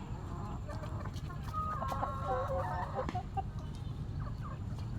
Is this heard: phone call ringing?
no